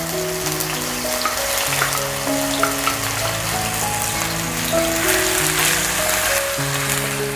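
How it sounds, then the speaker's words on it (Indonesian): Blended spice paste for Madurese nasi babat sizzling and crackling in hot oil, a steady dense frying hiss running throughout with music playing underneath. "Saya masukkan bumbu yang sudah di blender tadi ya."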